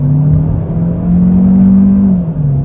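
A 2024 Kia K5 LXS accelerating under throttle, a loud, close engine drone that rises steadily in pitch and then eases off slightly at the end, with no talking.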